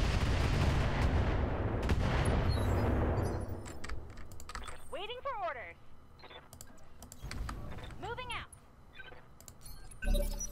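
Mech weapons in the Roguetech BattleTech game fire at a turret: a dense, loud barrage of shots and blasts for several seconds, then sparser impacts and whooshing projectiles, with a final hard thump.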